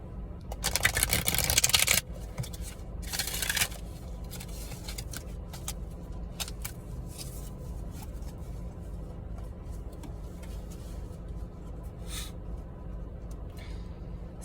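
A deck of oracle cards being shuffled, with a loud riffling burst of papery slaps near the start and a shorter one a moment later, then quiet scattered taps and rustles.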